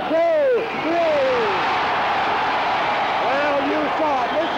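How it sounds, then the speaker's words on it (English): A 1973 wrestling arena crowd roaring loudly and continuously after a pinfall, with shouting voices rising and falling through a dense, wild cheer that runs the whole time. "Listen to the crowd go wild."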